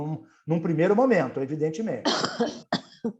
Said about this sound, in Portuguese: Tem alguém tossindo aí.